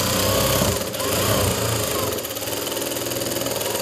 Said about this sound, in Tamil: இப்போ நார்மலாக நீங்கள் எப்பவும் போல் ஒட்டு தையல் போட்டுக்கோங்க.